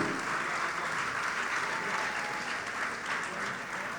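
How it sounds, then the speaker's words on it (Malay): Hall audience at a national Malay language carnival prize-giving ceremony applauds the students, a sustained even roar of many hands clapping throughout, moderately loud with no talk over it. "Satu tepukan untuk anak-anak kita"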